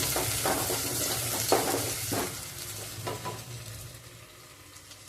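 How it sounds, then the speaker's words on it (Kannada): Chopped onion fries on medium flame for avarekalu uppittu, a dense close sizzle with repeated scraping stirs that slowly quiets toward the end, and nobody speaks. "ಈರುಳ್ಳಿ ಕಟ್ ಮಾಡಿ ಇಟ್ಕೊಂಡಿರೋ ಈರುಳ್ಳಿ ಮೀಡಿಯಮ್ ಫ್ಲೇಮಲ್ಲಿ ಇರಲಿ ಇದನ್ನು ಸ್ವಲ್ಪ ಮಿಕ್ಸ್ ಮಾಡಬೇಕು"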